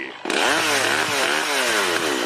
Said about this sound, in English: Behold the power of the AgroGuard Pro, a nuclear-powered chainsaw designed to keep those Agropelters at bay.